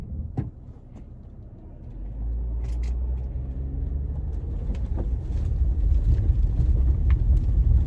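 A car cruising along at high speed, a steady low engine and road rumble that builds gradually and stays continuous throughout, with a few faint clicks early on.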